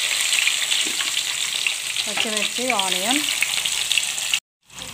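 Green chillies and onion fry in plenty of oil after garam masala, with a loud continuous sizzle and stirring, a short voice murmuring over it midway, and a brief cut to silence near the end.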